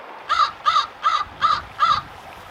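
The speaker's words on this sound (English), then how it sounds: "The crow hopped about, looking for food among the rocks." A crow standing on rocks by a swollen beaver pond caws five times in an even, steady rhythm, close and clear above quiet background water noise.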